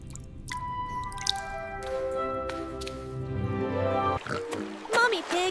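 Water drips from a cold crystal rock inside a cave in an animated pig cartoon, with several bright plinking drops over soft music and a character's voice.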